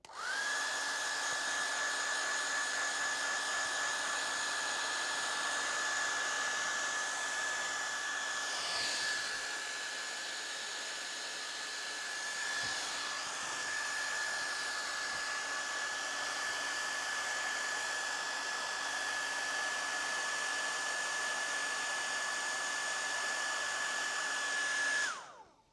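A hair dryer blows steadily to dry paint, a loud continuous whir with a high whine that holds for the whole stretch and cuts off at the end.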